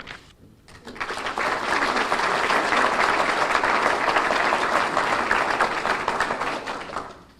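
A crowd applauds loudly and steadily for several seconds, the clapping swelling in quickly and tapering off at the end.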